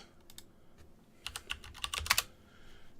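A short burst of rapid keystrokes on a computer keyboard, entering a search term in the Windows Store, clicking clearly over low room noise with no voice.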